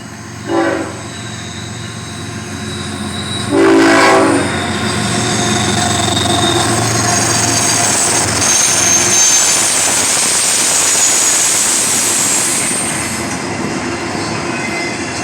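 A Norfolk Southern freight train rolls past at close range in Elkhart, Indiana, its horn blasting twice early on before a long, steady roar of railcars and wheel noise fills the rest of the pass.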